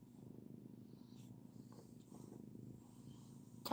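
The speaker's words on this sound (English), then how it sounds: "Gosh, she's purring." A cat purring softly and steadily up close, a low continuous rumble in a quiet room, with a brief louder rustle at the very end.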